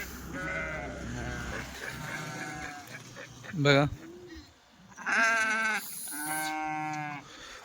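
Sheep bleat repeatedly nearby, several drawn-out wavering calls, with someone talking underneath and over them.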